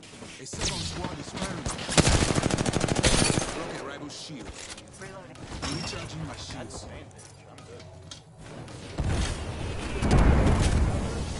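Bursts of gunfire from a first-person shooter video game crackle through the first few seconds, with heavier impacts returning toward the end, mixed with in-game voice lines and steady background action.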